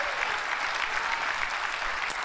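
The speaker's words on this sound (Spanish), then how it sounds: "Den el aplauso fuerte a Él, aleluya." A church congregation claps loudly and continuously throughout a worship service, with dense, even applause close by and no pauses.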